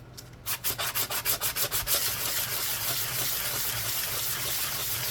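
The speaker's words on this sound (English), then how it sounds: "Just very fine sandpaper." Very fine sandpaper rubs over a 50 pence coin being shaped into a ring, first in about a dozen quick, distinct back-and-forth strokes, then blending into continuous close scraping.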